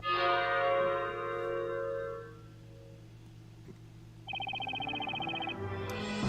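Bell ringing in the Professor Layton vs. Phoenix Wright: Ace Attorney video game: a sustained, bright chime with layered overtones that gradually decays, then a second, higher ringing tone enters and holds steadily, with no voices.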